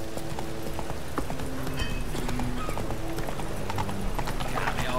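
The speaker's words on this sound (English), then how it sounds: "Run, Roach." A horse gallops in The Witcher 3 video game, with steady rapid hoofbeats under game ambience and music, continuous and fairly loud, while a voice speaks briefly over it.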